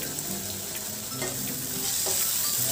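Finely chopped tomato sizzles steadily in a hot pan during a monsoon snack recipe, a continuous close frying hiss broken by a few scraping stirs of a spoon, with no talking.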